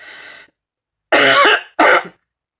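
A brief wheezy breath followed by two loud, close coughs in quick succession, alone without speech.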